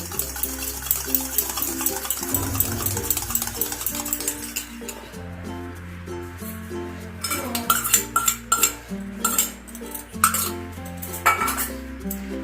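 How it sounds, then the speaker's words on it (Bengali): Chicken is mixed with spices and beaten egg for a pakora marinade, a spoon clinking and scraping against a metal bowl in repeated close strokes, with no voices. "সব মশলাগুলোকে দিয়ে আমি ম্যারিনেশন করে নেব"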